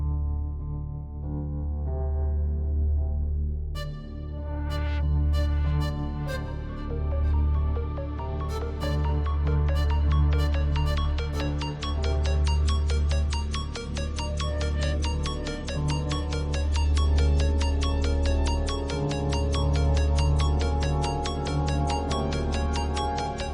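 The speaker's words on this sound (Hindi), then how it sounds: "फोन क्यों नहीं उठा रहा मेरा?" An unanswered phone call rings in a romantic TV drama, a repeating electronic ringtone melody in steady pulses that plays on for over twenty seconds without any talk.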